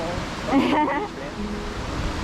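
A stream in Lauterbrunnen, Switzerland, gives a steady broadband rush of flowing water throughout, with a voice speaking briefly over it near the start.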